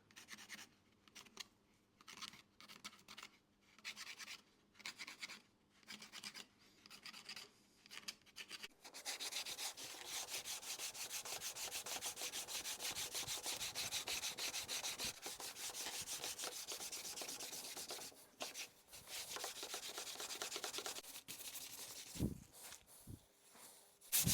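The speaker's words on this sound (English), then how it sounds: "put some pencil marks all over the fretboard just to see that we can sand it even" Abrasive sanding on a wooden guitar fretboard, first in short separate strokes, then a long continuous scrubbing run, with a few more strokes near the end.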